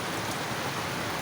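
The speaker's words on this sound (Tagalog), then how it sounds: "Wala talagang kakupas-kupas yung ulan na itong oras na to guys" Heavy rain pours during flooding, giving a dense, steady hiss that is loud and close, with no break and no voices.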